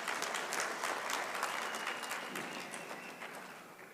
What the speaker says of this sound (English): So a huge applause to Butu University